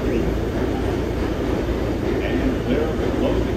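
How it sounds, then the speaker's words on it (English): An R211A subway car runs on the New York A express line toward 207th Street, a continuous rumbling roar of wheels and motors with rattling, under a loud onboard voice announcement. "This is the 207th Street bound A express train."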